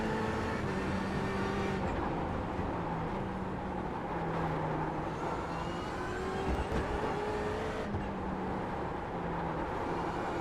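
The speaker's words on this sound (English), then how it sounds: "There's a faster car approaching." Race car engine sound in the iRacing simulator during an IMSA event at Sebring, with a steady loud drone and shifting engine tones as a faster car closes in and passes; no speech.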